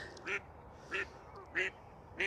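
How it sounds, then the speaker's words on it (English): Ducks at the RHS Bridgewater gardens in Worsley quack four times in an even rhythm, moderately near and fairly faint over a quiet outdoor background. "the ducks, who are very noisy today"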